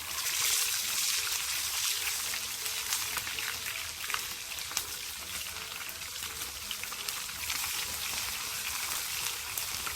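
Fish fry in a pot of oil, sizzling and crackling steadily, with bright popping spatters scattered throughout and no talking.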